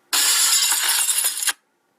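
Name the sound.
mirror falling and glass shattering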